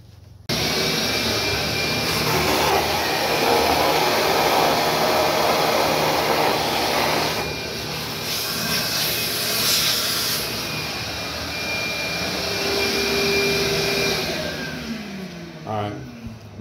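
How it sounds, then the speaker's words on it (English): A steady, loud vacuum cleaner drone, used to suck a line through electrical conduit, with a whooshing, airy roar that runs almost the whole time, its pitch shifting slightly near the end. "I'm gonna pull a vacuum cleaner on it and should be able to suck it through"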